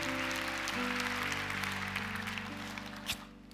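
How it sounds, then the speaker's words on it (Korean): A church congregation applauds after a sermon, a soft, diffuse clapping under sustained organ or keyboard tones, tapering off near the end. "우리 하나님께 영광의 박수를 올려드리겠습니다."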